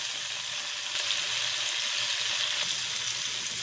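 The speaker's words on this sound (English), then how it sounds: "Now I'm going to add 2 cloves of garlic. And I'm going to let that cook for about a minute." Garlic sizzles and fries in a pan with onions that have already cooked down, a steady loud crackling hiss throughout with no talk, while beef short ribs are being prepared for the crock pot.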